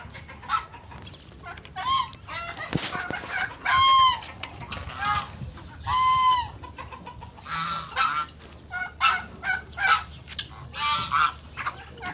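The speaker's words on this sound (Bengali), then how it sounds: "এগুলো সব চীন হাঁস" Domestic Chinese geese honk repeatedly on a poultry farm in loud, overlapping calls, mixed with clucking and crowing from chickens and turkeys nearby.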